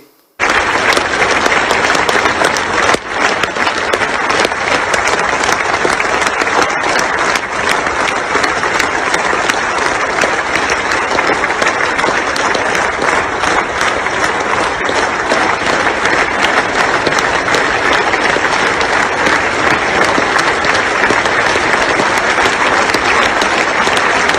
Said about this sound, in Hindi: तालियों की गड़गड़ाहट आपके कान के अंदर दोस्तों पड़ने वाली है